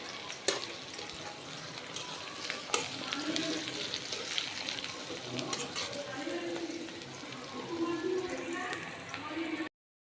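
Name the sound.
onions and spices being sautéed in a pan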